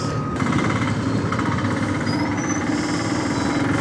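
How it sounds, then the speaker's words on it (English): A small single-cylinder 110cc TVS Wego scooter engine putters steadily and close, its exhaust thumping in a rapid, even rhythm. "see how the exhaust sounds like. It's a single cylinder 110cc engine"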